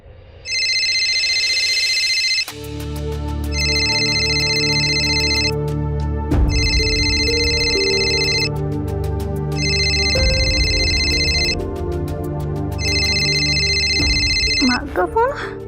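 A phone ringtone for an incoming call from mother plays in repeated tonal bursts over a steady musical backing, about five rings spread across the span, loud and close.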